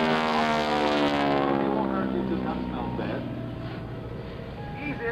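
A North American T-6 aircraft flies at a World War II weekend air show, its propeller drone loud at first and then easing as it passes away, while a commentator talks over it.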